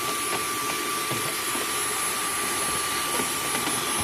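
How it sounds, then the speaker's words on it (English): A small shop vacuum runs steadily up close, sucking debris out of a car's air cleaner box, its continuous broadband whine and rush holding level throughout with faint clicks of bits passing through. "it never hurts to get some sort of a vacuum, like a shop vac or a little vacuum like this"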